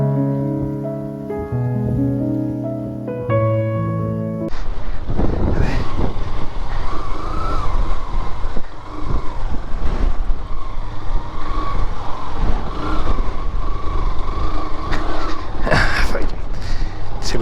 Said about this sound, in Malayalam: എല്ലാവരും വന്ന് ഡ്രിഫ്റ്റ് ചെയ്ത് കറക്കി പൊളിച്ച് വെക്കുന്ന സ്ഥലം